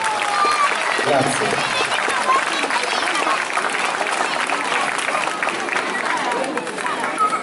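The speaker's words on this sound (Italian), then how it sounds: "Fate un applauso." Crowd applause at an outdoor summer dance show in Ruvo di Puglia, Italy, steady and dense throughout with chatter mixed in, and a brief spoken thanks.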